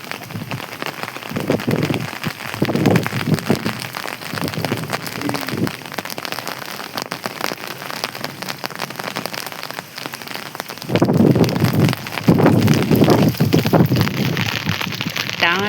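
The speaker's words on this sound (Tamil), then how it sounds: "இந்த இடி தாங்க பயங்கரமான மழையை கிளச்சிட்ருக்கு." Steady, dense rain pours down throughout, a continuous broadband wash that swells louder toward the end, with no voices.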